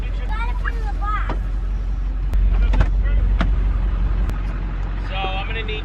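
A pickup truck drives along with a steady, loud engine and road rumble throughout, while muffled voices and a few faint higher chirps come through over the noise.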